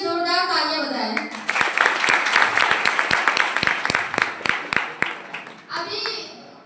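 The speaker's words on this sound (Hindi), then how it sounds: "मैं चाहती हूँ कि एक बार से मेरे के लिए जोरदार तालियां बजाएं।" Audience applause at a motivational speech in Siddharthnagar, Uttar Pradesh: dense crowd clapping with sharp individual claps standing out, breaking in after a voice and fading as she resumes speaking.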